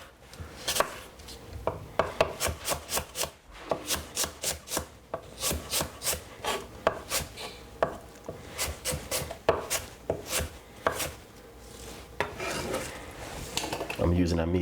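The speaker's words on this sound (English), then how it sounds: "So cut up your apple very small." A knife cuts a medium-sized apple into small pieces on a board, making quick rhythmic chopping taps in bursts with short pauses between runs and a louder clunk at the very end.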